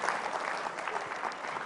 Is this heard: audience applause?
yes